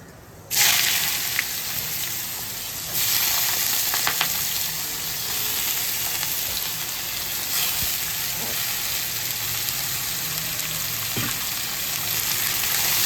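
Chopped bottle gourd hits hot oil already crackling with whole cumin seeds, a loud steady sizzle that swells as the pieces go in and keeps hissing throughout, with faint stirring scrapes.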